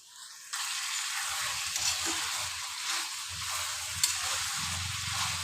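Beef cooking in oil in a pan sizzles as a steady, moderately loud hiss that begins abruptly after a brief quiet moment, with faint scrapes and clinks underneath.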